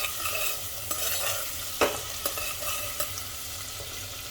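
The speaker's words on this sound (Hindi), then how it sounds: "प्याज को आप मीडियम फ्लेम पर इस तरह से कंटिन्यू चलाते हुए भूनिए" Sliced onion sizzles in a pan over a medium flame while being stirred continuously, a steady frying hiss broken by several sharp scrapes and clacks of the spoon, close up and without speech.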